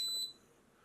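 A single high electronic beep from the xTool fire kit control unit on a laser machine, sharp and close for a fraction of a second before cutting off into quiet room tone.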